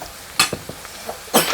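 Food frying in a pot for Haitian diri kole ak pwa kongo, heard as a couple of short scraping stirs and sizzling bursts close by, brief and fairly loud, with no talk.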